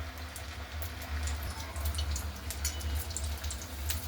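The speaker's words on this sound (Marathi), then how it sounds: "तेल छान गरम झालेलं आहे. आता आपण गॅसची फ्लेम कमी करू आणि लो हीटवर तळून घेऊ." Vadas frying in hot oil over a low flame, a soft steady bubbling and crackle with scattered pops, close and fairly quiet, with no voices.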